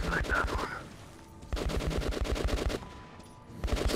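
Rapid automatic gunfire in the post-apocalyptic shooter Metro Last Light Redux, sustained bursts of loud rhythmic shots with brief pauses between, close and dominant, with a faint voice briefly underneath.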